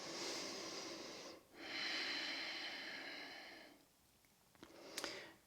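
Slow, deep yoga breaths in a Malasana squat: two long, audible breaths at close range, each a steady airy rush, followed by a quieter pause with a few small clicks.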